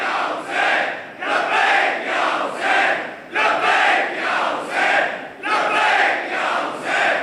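A congregation loudly reciting salawat in unison, rhythmic chanted phrases rising and falling in waves from many voices together, close and strong.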